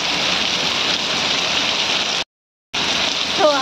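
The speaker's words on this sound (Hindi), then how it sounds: "कितना तेज बारिश हो रही है" Heavy rain pours steadily during a thunderstorm at night, a loud dense hiss broken by a sudden brief dropout before the downpour resumes.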